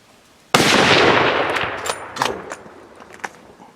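A single loud rifle shot rings out during a Wyoming deer hunt, a sharp blast whose long echo rolls away and fades over several seconds, followed by a few fainter knocks.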